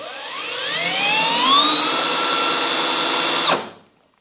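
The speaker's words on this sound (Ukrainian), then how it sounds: "А звук приємний такий від е, безщіткового мотору" A Bosch GSR 18V-50 brushless cordless drill motor whirs up to speed with a rising whine, holds steady, then cuts off and spins down to silence.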